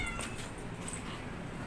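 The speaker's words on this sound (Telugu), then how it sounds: "నాకు పిల్లిగాడు ఏడిపించేస్తున్నాడు ఫ్రెండ్స్." A house cat meowing at moderate loudness, brief cries over a steady low household hum with no talking.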